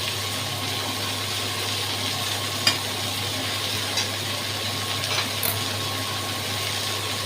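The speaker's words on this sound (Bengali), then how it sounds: "হ্যাঁ, এটাকে এবার শুধু নুন আর হলুদ দিয়ে আমি ভাজবো।" Thinly sliced pointed gourd frying with salt and turmeric, a soft continuous sizzle over a low steady hum, with a few faint scrapes and taps of a spatula.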